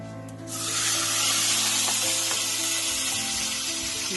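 Food sizzles steadily in a hot pan on a home stove, a bright continuous frying hiss that swells in after a brief moment and holds loud and close, with faint clinks of stirring and no talking.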